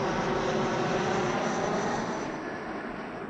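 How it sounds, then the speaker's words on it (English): An airplane drones overhead above an open wilderness mountain, a loud, steady broadband engine roar filling the whole moment and slowly easing off toward the end. "I bet he didn't have planes flying over the mountain that he was trying to preach on."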